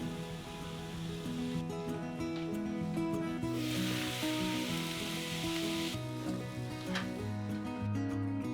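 Ground chicken with shimeji mushrooms and a splash of water steams under a lid in a pan over low heat, giving a steady soft sizzle and hiss that swells briefly midway, with background music and no talk.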